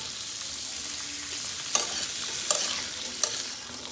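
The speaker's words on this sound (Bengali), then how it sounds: "আর এখন এটাকে আবার একটু নেড়ে চেড়ে দিলাম।" Gourd greens with potato, beans, onion greens and green chillies stirred in a frying pan, a steady hiss of frying with three sharp scraping clicks from the spoon against the pan, no voices.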